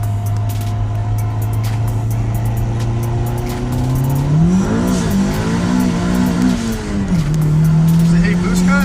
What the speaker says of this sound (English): I'm gonna try and brake boost it just to see what happens.